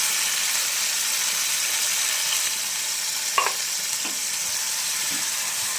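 Corned beef frying in a pan for a spaghetti dish, a steady close broadband sizzle with a few faint knocks of stirring near the end, no talking.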